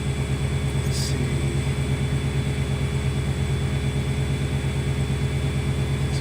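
A car engine fitted with Holley EFI idles steadily up close, a constant low, throbbing drone with a faint whine over it and a brief click near the start, no talk.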